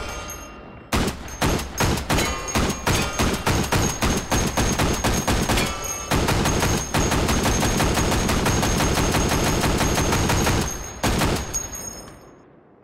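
Automatic gunfire in the VR shooting game Hot Dogs, Horseshoes & Hand Grenades, long loud rapid bursts of shots with brief pauses between magazines, close and dominating, no speech.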